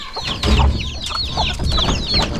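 Chickens waiting at feeding time on a farm cluck and squawk close by in a continuous busy chorus, with no voices.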